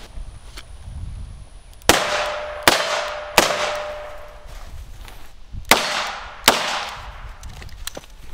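A Smith & Wesson 340PD lightweight .357 Magnum revolver fires five sharp, loud shots at uneven intervals, each followed by a brief ringing decay.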